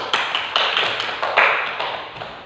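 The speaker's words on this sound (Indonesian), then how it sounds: "tepuk tangan dulu" Classroom applause from a group of students, many hands clapping in a dense, steady patter that swells and fades in several waves over a couple of seconds, fairly close and loud with no talking.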